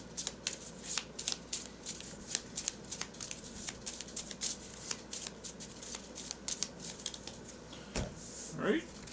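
Marvel Champions playing cards are shuffled close by in a run of quick riffling bursts and soft card slaps, with a voice talking briefly near the end.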